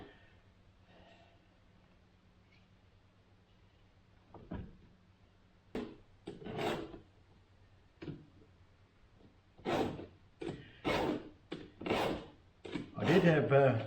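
A hand file rasps against the chain of a battery-powered chainsaw, starting with scattered strokes and building to a run of short, loud, rhythmic scrapes up close, with no speech.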